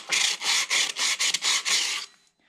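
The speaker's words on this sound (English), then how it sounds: "This drum's pretty crusty, so I'm just gonna take some sandpaper and" A crusty brake drum from a cheap compact tractor is sanded by hand with sandpaper, giving six or seven close, loud rasping strokes in a steady back-and-forth rhythm before stopping.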